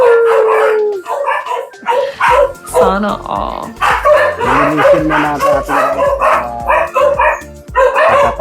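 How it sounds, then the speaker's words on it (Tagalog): A dog howls and yips loudly and repeatedly, close by, with a person talking over much of it; it stays steady throughout. "maingay yung aso"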